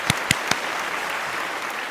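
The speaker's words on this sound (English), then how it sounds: "That merits a hand clap." Applause at a school valedictory service: a few sharp nearby claps open the clip, then a steady wash of crowd clapping continues.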